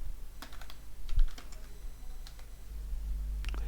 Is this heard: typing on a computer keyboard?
yes